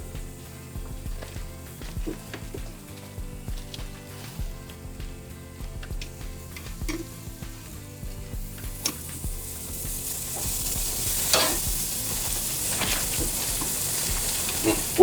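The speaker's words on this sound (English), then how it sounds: "you don't overcook lamb, but you want to get a good sear on lamb" Marinated lamb sears in a hot pan, with sizzling frying that rises and grows louder and denser over time, under occasional clicks and clatter from handling.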